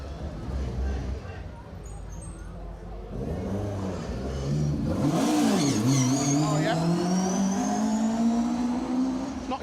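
A rally car on an asphalt stage at Rally Ceredigion, its engine climbing from a distant drone to a loud rising rev as it approaches and passes close by, with commentary voices running over it.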